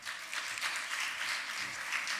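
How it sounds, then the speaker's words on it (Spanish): A brief, soft burst of audience applause at an evening gathering, a steady patter of many hands clapping together at a distance. "Un aplauso."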